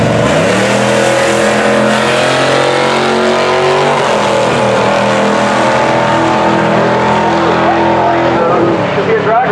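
At a drag strip, a twin-turbo C8 Corvette with a CSP prototype kit races a Cadillac CTS-V, both engines roaring loud and close with a rising, sustained revving note throughout and a voice faintly under the noise.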